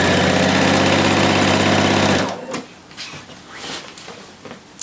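A home sewing machine stitches the final side seam of a shirt, its dense, steady run loud for about two seconds before stopping abruptly, followed by faint handling clicks and rustles.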